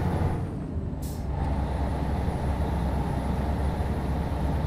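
A heavy truck engine in Euro Truck Simulator 2 rumbles steadily while a sharp hiss of an air brake releases briefly near the start.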